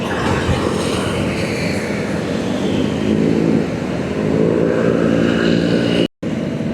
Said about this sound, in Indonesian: Dan untuk aktivitas jalur lalu lintas juga masih ramai lancar ya teman-teman. Emang lebih dominan kendaraan roda 2.